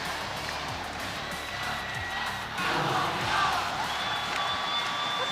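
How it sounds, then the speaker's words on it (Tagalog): Apalit supporters cheer at a Delta Cup 2024 basketball game in a convention center, their loud, continuous crowd roar swelling midway with whoops and shouts. "Look at this crowd coming from APALIT."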